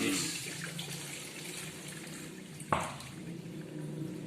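Rice washing water being poured out while cooking Sundanese nasi liwet, a soft, close trickling and splashing of water with one brief louder splash.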